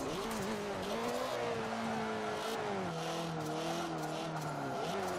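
A Mazda Speed3 in Forza Motorsport 7 racing on track, its engine note sliding down as it brakes hard, with tire squeal and skidding noise layered over the steady drone.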